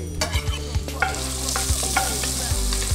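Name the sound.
anchovy and garlic added to a hot pan, frying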